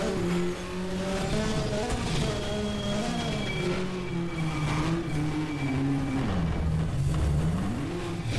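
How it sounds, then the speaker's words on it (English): Onboard sound of a roughly 600-horsepower hill climb race car at Col St. Pierre during a European Hill Climb Championship round, its engine loud and continuous, pitch rising and falling through gear changes and throttle lifts, with no talk. "Just under 600 horsepower, 75 newton meters of torque, and all of this sound to enjoy."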